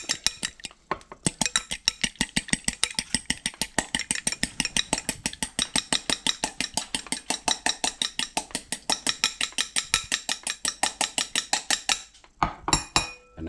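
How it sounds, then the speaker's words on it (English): A raw egg is whisked briskly in a bowl, a fast, even run of sharp metallic clinks and scrapes close by, with a brief pause near the end before a few final taps. "whisk it up"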